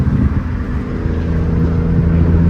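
A Toyota JZX100 with a swapped JZ engine drives along, a loud, rough, steady engine rumble with road noise throughout and no voices.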